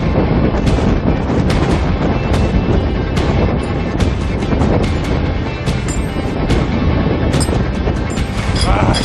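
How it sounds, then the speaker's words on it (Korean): Strong wind buffets a rooftop work site, loud and constant, with gusty rumbles against the microphone and repeated sharp clatters and knocks scattered throughout. "여기서 바람이 세긴 세다."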